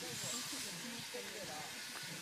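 A steam train on the Caledonian Railway pulls away into the distance, leaving a steady, faint hiss of steam with low rumbling underneath.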